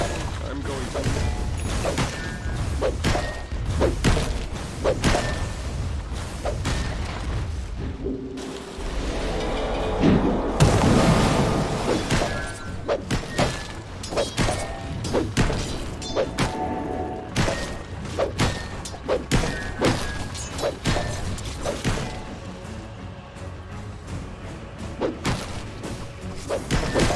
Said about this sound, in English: Radiant's bottom tower is in danger. Tower is under attack.